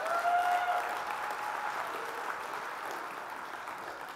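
An audience at a Farmers 2019 Sunday night show bursts into applause that starts strong and tapers slowly over a few seconds, with no talking.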